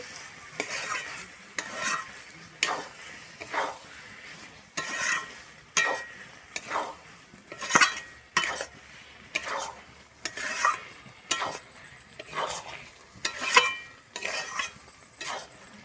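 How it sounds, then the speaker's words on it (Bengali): Garam masala stirred through a soft, mushy mix of cauliflower and Gobindobhog rice in a pan, heard as steady, rhythmic scraping strokes with a faint sizzle beneath and no one talking. "এখানে গরম মশলার গুঁড়ো এক চামচ যে আমি ভালোভাবে মিশিয়ে নিচ্ছি"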